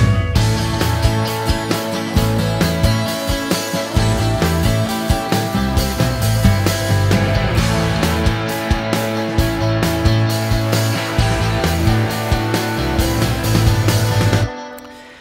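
Dense layered rock arrangement of distorted low power-fifth guitars, mid-range acoustic strumming, bass and punchy drums, steady and loud throughout before fading out at the end, no speech.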